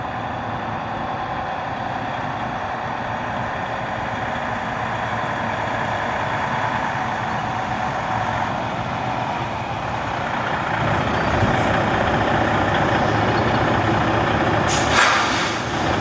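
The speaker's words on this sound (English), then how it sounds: "So I'm going to pull the truck up now and show you how to do a setup for the offset." A truck idles and is then pulled forward in a lane offset setup, its heavy engine rumbling steadily before rising louder midway, ending with a brief hiss of air brakes, with no speech.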